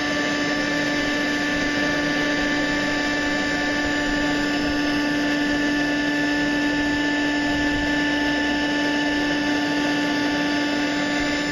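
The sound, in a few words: gold prospecting suction tube sucking material from rock crack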